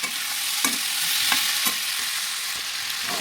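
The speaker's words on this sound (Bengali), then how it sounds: "আলুটা আমি একটু ঢাকা দিয়ে ভাজবো, তাহলে তাড়াতাড়ি নরম হয়ে যাবে।" Potatoes fry under a lid in a pan on a low flame for aloo posto bhaja, giving a continuous close frying hiss. Several light knocks of utensil or lid break through the sizzle.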